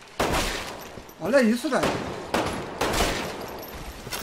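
Gunfire crackles in the shooter game Umbrella Corps in repeated bursts of rapid shots, loud and close, while someone speaks briefly over the action.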